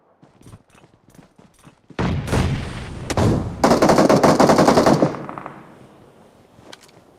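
Game gunfire in PUBG: a few faint taps lead into loud, rapid bursts of automatic fire, clustered and close, then fading to scattered distant shots at the end.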